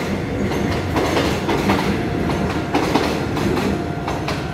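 A Taiwan Railway Afu local express train passes close by with loud, continuous rumbling and a steady clickety-clack of wheels over rail joints. No one speaks.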